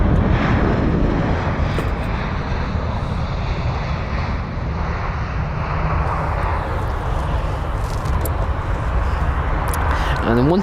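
Engines of a 22-year-old Finnair Airbus A320-200 operating a short British Airways flight, a steady loud broadband roar that fills the whole clip without letup.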